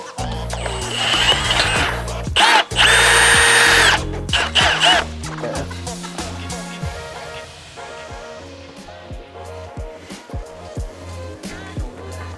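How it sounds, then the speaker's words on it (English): A power drill bores into the body of an Audi R8 V10 during a roll cage install, with repeated bursts of whining drilling, loud and close, separated by short pauses and metallic clatter. "start drilling"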